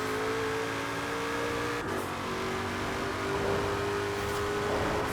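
Ford Mustang Shelby GT500 with 993 horsepower accelerating in Forza Horizon 4, a steady droning engine note rising in pitch, briefly dropping as if shifting gear, then climbing again, loud and continuous with no talk.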